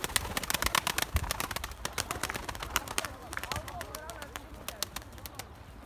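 Pigeons at a new flying loft, with dense chirps and coos close by over a busy bird background, while someone talks intermittently throughout.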